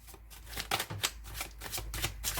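Tarot cards being shuffled by hand, a rapid papery riffle with repeated flicking bursts and soft slaps, close and clear with no talking.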